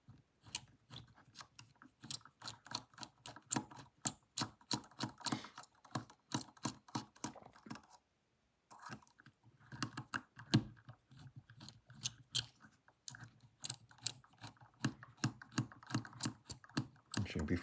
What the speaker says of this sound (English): then I'm going to take these screws out.